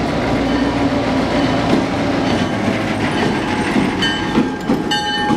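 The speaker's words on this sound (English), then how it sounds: "All right, guys, choo-choo train." A train rumbles steadily past with a rhythmic clickety-clack of wheels on rails, loud and continuous, with faint squeals near the end.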